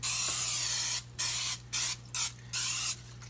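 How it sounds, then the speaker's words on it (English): Cooking spray greasing a pizza pan for homemade hamburger pizza, five close sharp hissing bursts of roughly half a second each, separated by brief pauses, over a faint steady hum. "so now I'm going to grease a pizza pan"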